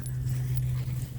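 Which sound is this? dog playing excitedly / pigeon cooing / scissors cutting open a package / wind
dog playing excitedly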